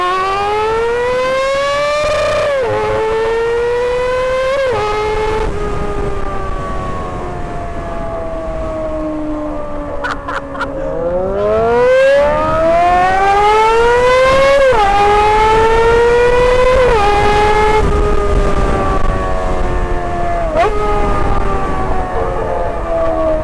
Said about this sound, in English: Honda CBR250RR, little mini Fireblade, 4-cylinder action